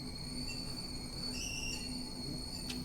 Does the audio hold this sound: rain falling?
no